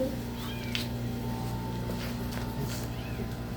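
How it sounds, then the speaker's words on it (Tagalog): A cat meows a few times, faint and drawn out, against a steady background hum, with no speech over it. "Meow, meow, meow."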